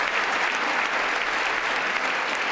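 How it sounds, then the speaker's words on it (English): An audience at a State of the Union address breaks into loud, dense, continuous applause that holds steady throughout. "Folks, clap for that"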